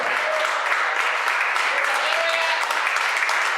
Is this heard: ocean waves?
no